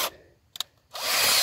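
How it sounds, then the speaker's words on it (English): A power drill boring holes through a canoe hull, with a brief double click or ratchet, then a loud sustained whir of the drill running. "I will finish my drilling from this side."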